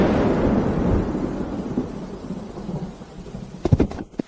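Thunder rumbles with heavy rain in a drama scene, a loud low roll that fades over several seconds before a few sharp crackling bursts near the end, with no voices.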